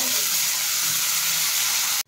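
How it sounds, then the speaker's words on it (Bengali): Mixed vegetables with beans and peas sizzle in a pan for fried rice, a dense, even hiss of frying that holds steady throughout before cutting off abruptly. "আমার সব সবজিগুলো ভাজা হয়ে গেছে।"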